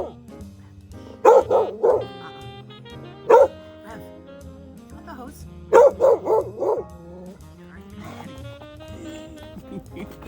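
A dog barking at fresh snow, several sharp loud barks in two bursts of three or four with a single bark between, close by against a quiet background, with music playing faintly underneath.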